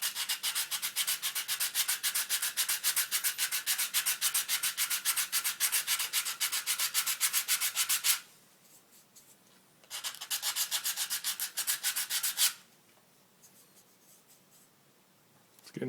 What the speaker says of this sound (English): We're working up to 150 grit